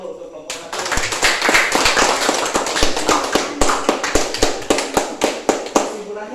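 A classroom of students applauds a student group after a news-text presentation, a burst of many hands clapping that starts abruptly, with rhythmic claps growing more regular as it continues, and voices mixed in underneath.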